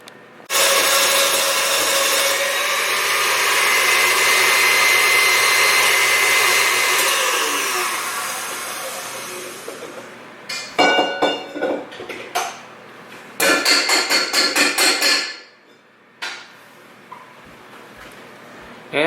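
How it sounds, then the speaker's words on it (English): An electric mixer beats egg whites to stiff peaks in a bowl, whirring loudly and steadily for about ten seconds, then several short bursts of rattling and scraping follow. "I am going to beat up these egg whites to stiff peaks"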